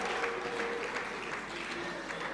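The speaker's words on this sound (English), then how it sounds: "Give him a round of applause." A crowd at an award ceremony gives a round of applause: dense, continuous clapping that fills the room evenly and stays steady from start to finish.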